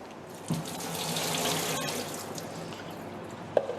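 Water pressed out of apple drains through a kitchen sieve, a steady, close, continuous watery hiss with a couple of light knocks from the sieve.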